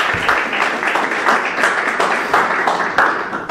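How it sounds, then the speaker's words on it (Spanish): Steady applause from a lecture audience, a dense wash of clapping hands that continues without a break. "lo dejamos con Eduardo con un aplauso"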